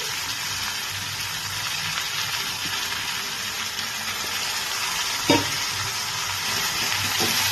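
Potatoes and eggplant frying in katla fish oil give a loud, continuous close-up sizzle with crackling spatter, and a single sharp clack from a utensil near the end.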